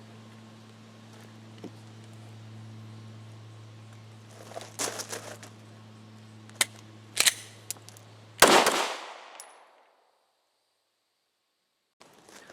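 A pistol malfunction with a partially ejected round gets cleared: a hum gives way to sharp metallic clacks and rattles of the slide and magazine, building to one loud slam before near silence.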